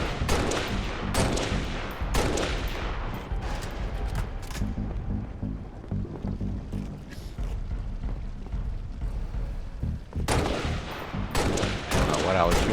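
Loud, rapid gunfire in Halo: Reach on Xbox 360, Legendary difficulty, with repeated bursts and single shots crackling close up and an intense stretch of firing near the end.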